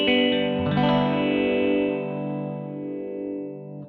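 An electric guitar played through a ring modulator pedal gives a loud, metallic, inharmonic strum that rings and slowly decays over a few seconds, close and without any voice.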